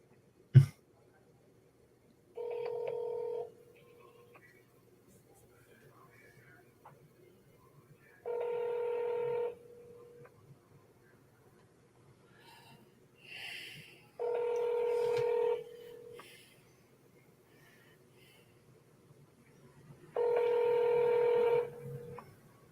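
Touch-tone keypad beeps from a phone as a call is redialed, four separate bursts of dialing tones spaced several seconds apart, clear and close over a quiet background.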